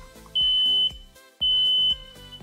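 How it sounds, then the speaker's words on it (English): Smoke alarm being tested after replacement, two loud piercing electronic beeps of about half a second each, separated by a short gap, over quiet background music. "Test the alarm."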